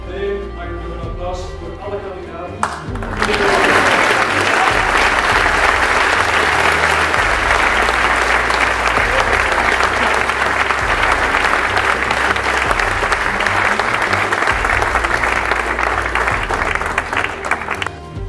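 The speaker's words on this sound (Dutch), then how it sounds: "Mag ik nog een applaus voor alle kandidaten?" An audience at a prize ceremony applauds all the candidates, a loud sustained round of clapping that bursts in after a few seconds of talk and holds steady to the end.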